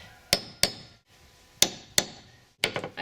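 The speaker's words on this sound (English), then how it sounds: "So you take a nail set and you're just going to put it right on top of the nail. Drive it down." Sharp hammer blows drive a nail set down onto a deck board nail, five metallic strikes in irregular pairs at close range, each ringing briefly, with a scuffing burst at the end and no talk.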